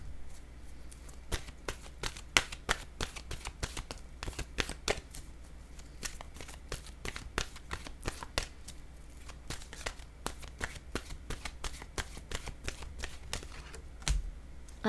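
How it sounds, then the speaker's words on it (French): Oracle cards are shuffled in a steady run of crisp riffling clicks and snaps, close and fairly quiet, repeating for the whole stretch with no voices. "Je vais déposer une carte de mon oracle de l'âme intuitive pour ici."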